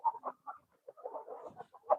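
Desi hens at a Punjabi poultry farm give a run of close, moderate clucks and murmuring calls, one louder cluck closing the sequence, with no voices.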